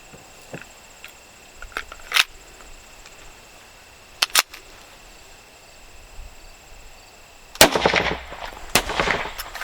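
Two 9mm pistol shots, close and sharp, crack out a couple of seconds apart against a body armor plate; later a louder burst of clattering noise follows, with a few faint ticks scattered between.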